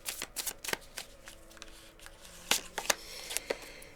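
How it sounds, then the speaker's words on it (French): Tarot cards being handled, drawn and laid down on a surface, giving a series of crisp, close slaps and flicks in irregular clusters against a quiet background. "Allez, C'est parti, on met une dernière carte."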